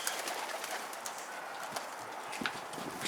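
Pigeons, both domestic and wild, coo and shuffle in a loft, with faint soft calls and scattered clicks and wing flutters under a steady hiss.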